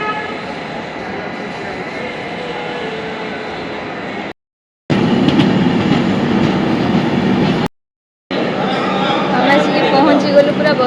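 A passenger train runs on rails with a steady, loud rolling rumble and rattle heard from inside, broken by two brief silent gaps, while a voice talks over it.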